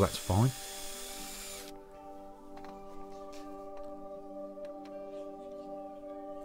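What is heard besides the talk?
hand drill boring into wood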